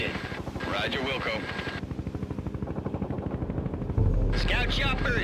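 Helicopter rotor thumping steadily throughout a World in Conflict battle, with gunfire and explosions mixed in and game voices talking over it.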